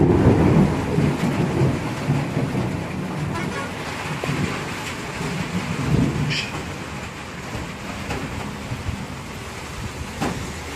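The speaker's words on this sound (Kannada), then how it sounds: "ಮಳೆ ಹೆಂಗೆ ಹೊಡ್ಲತ್ತದ ರಾತ್ರಿ" Heavy rain pours down at night in a steady, dense hiss, with low rumbles of thunder rolling through, strongest near the start and again around the middle.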